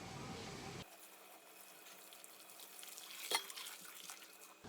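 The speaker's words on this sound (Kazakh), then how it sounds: "кәдімгі қайнап тұрған суды құямыз" A thin stream of boiling water pours steadily with a soft hiss, quiet and close, with a brief splashy surge partway through.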